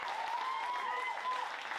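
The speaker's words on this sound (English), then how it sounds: "please give all the wait staff a round of applause" Applause from a comedy club audience in Bellflower for the wait staff, a steady patter of clapping filling a short stretch, fairly faint and distant, with a voice faintly riding over it.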